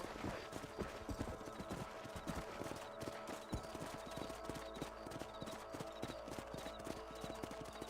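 Horse hooves clip-clopping in steady rhythm as a rider travels on horseback in the Red Dead Redemption video game, set on a ranch, with a continuous rumbling bed of ambience underneath.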